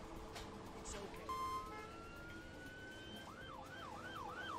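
An ambulance siren in the Emergency 4 video game, with the Bushton mod, wails steadily and then switches to a rising and falling yelp. It sounds moderately loud over a constant background hum of game traffic.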